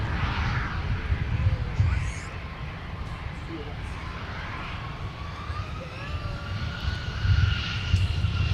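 Jet airliner rolling for takeoff at Minneapolis airport, a broad steady engine roar with low rumble that holds throughout, moderately distant, with faint radio chatter in the background.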